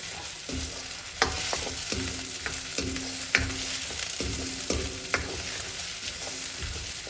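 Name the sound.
ginger garlic paste frying in oil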